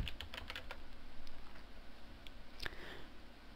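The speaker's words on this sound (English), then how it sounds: "you're just going to be typing in your username and password on the right there" Keys tapped on a computer keyboard while entering a username and password, a steady run of light clicks with a couple of sharper strikes near the end, close and fairly quiet.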